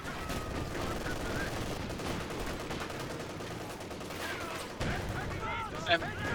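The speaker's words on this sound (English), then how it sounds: "Receiving enemy fire!" Gunfire rattles in a Company of Heroes 2 battle, a steady wash of distant machine-gun and rifle fire mixed with battlefield noise, with one sharper burst near the end and faint voices underneath.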